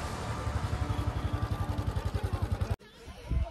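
A motorcycle engine idles and putters with a steady, rapid chug at close range as the bike is parked at Zero Point in North Sikkim, then cuts off abruptly near the end, leaving wind and faint outdoor noise.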